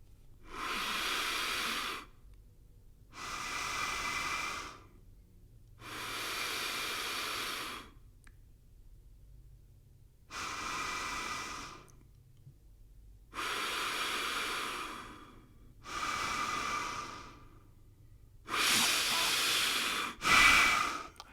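Seven slow, forceful breaths rush through a narrow resistance breathing tube, each a loud hissing airflow of about two seconds separated by quiet pauses.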